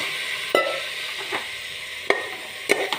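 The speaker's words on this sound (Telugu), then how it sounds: "ఇప్పుడు ఇందులో తోటకూర కాళ్ళు వేసేస్తున్నా" Chopped amaranth stalks go into a pan of simmering chana dal curry, with a soft background sizzle broken by several sharp clinks and scrapes of a stirring spoon, no talk.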